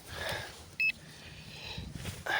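A metal detector gives a short, clear electronic beep over faint outdoor background, then a second tone sounds near the end.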